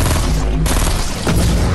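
Gunshots ring out in a video game, a loud, dense, nearly continuous burst of rapid fire with a couple of sharper cracks.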